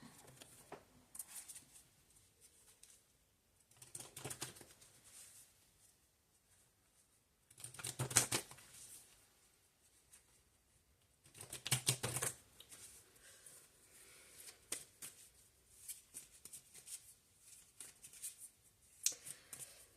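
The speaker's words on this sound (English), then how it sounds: "All right, let's get some tarot cards." A deck of tarot cards is shuffled in several separate bursts of soft, papery riffling and sliding, each lasting a second or so, with quieter fidgety card handling in between and no talking.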